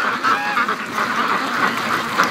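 Muscovy ducks calling near a partly frozen lake, a steady run of soft, breathy duck calls over outdoor background noise, fairly close and continuous.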